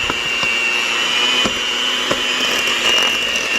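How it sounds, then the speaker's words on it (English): An electric mixer with beaters works shortbread dough in a steady, loud, close whir, with faint rhythmic knocks of the beaters against the bowl and no voices. "I'm very sorry for the loud mixing noises"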